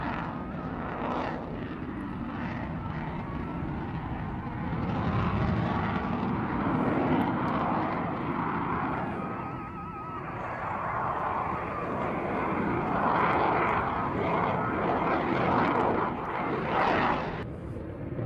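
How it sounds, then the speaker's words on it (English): An F-22 Raptor fighter jet in a display flight gives a loud, continuous roaring rumble that swells and fades as it passes, with a commentator talking over it. "It is, of course, the F-22 Raptor."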